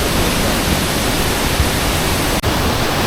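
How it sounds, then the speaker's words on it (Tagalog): Aling-Aling waterfalls in Bali roar as a steady, loud, broadband wash of falling water with no breaks. "Dalawang clean waterfalls siya."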